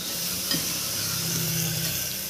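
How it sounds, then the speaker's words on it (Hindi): Spices tempering in hot oil in a home kitchen pan, a steady close sizzle and crackle with faint stirring, continuous and moderately loud throughout the short stretch. "तड़का लग रहा है।"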